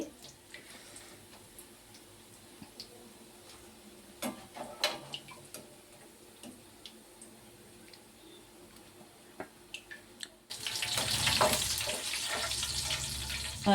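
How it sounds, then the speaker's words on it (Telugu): Mushroom pakoda deep-frying in oil with curry leaves, a low steady bubbling with scattered ticks and pops, rising to a louder, dense sizzle near the end. "ఇదిగోండి ఇక్కడ మంచిగా ఫ్రై అయిపోయింది"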